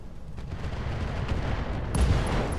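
Mech weapons fire from the BattleTech game mod Roguetech: a steady, dense rumble of gunfire with a louder burst of impacts near the end, no voices.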